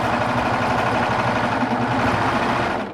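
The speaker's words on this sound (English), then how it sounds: "Begin sewing and it barely wants to feed the fabric on." Baby Lock serger running continuously while sewing fabric, a steady whirring machine drone at even volume that fades slightly at the end.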